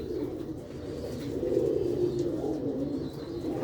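Pigeons cooing close by, soft low throaty coos rolling continuously under a quiet backdrop of faint ambient noise.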